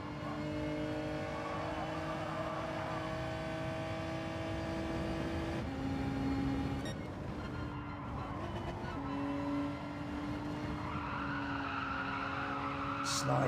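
Race car tyres skidding and sliding in Gran Turismo 7, a steady tyre squeal over engine drone that shifts pitch as the car slides through a corner, continuous and fairly loud.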